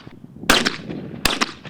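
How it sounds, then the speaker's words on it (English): Two sharp shotgun blasts at a clay target shooting club, each with a quick echoing tail, loud and spaced about a second apart with no talk. "Gunfire echoes throughout the air."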